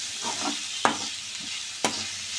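Onions for Tamil onion thokku being stirred with salt in a pan, with two sharp scraping clacks of the spoon against the metal over a steady soft sizzle of frying.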